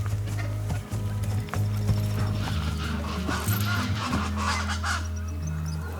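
Horse hooves clip-clop on a cattle ranch in Brazil's Pantanal, steady and close, mixed with honking geese and other fowl calling around the yard and a brief whinny.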